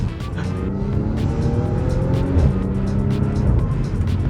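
A high-mileage Audi with worn tires and poor alignment is driven hard through a corner, its engine droning steadily and loudly from inside the cabin as the pitch rises and falls with road and tire noise.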